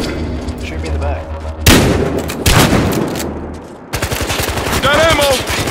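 Gunfire in the video game Battlefield Hardline, loud bursts of shots and rapid automatic fire that end in a dense stream of fast shots, close and sustained, with a voice heard partway through.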